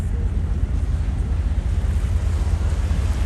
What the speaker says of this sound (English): Where the breaking waves are out behind us